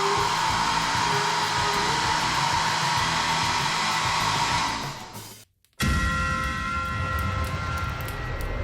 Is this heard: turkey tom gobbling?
no